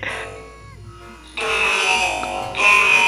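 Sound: voice changer robot effect on speech

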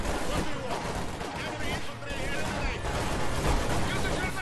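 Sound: gunfire in the video game Company of Heroes 2

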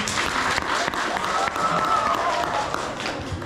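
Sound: audience applause for performers

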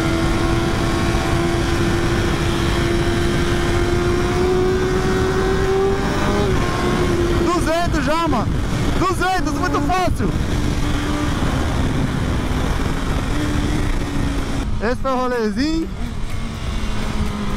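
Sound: BMW S1000 motorcycle engine riding at high speed

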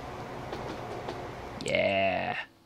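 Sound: train in video game Transport Fever

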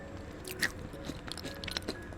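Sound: chewing a baked protein snack

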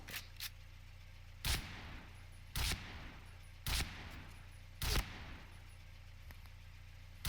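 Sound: gunshots from video game Point Blank armor test

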